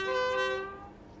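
A train horn from a train simulator game on the North Lincolnshire route between Grimsby and Boston sounds one loud, sustained chord-like blast that fades away over about a second, with no talk.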